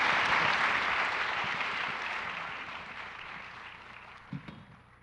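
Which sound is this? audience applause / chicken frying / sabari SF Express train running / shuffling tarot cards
audience applause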